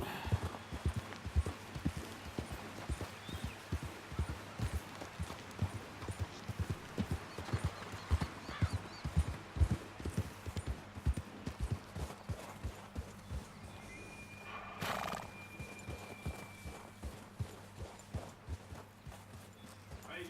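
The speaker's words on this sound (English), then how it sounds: "Might as well take the horse down." A horse in the video game Red Dead Redemption II clip-clops steadily at a walk for about twenty seconds, with a whinny partway through, moderately loud over a low ambient hum.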